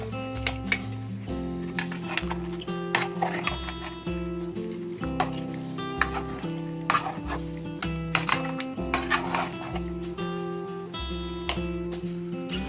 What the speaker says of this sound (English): Stir this once.